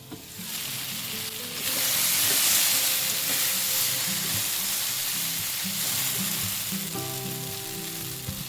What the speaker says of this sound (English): The okra has been frying for 2 minutes.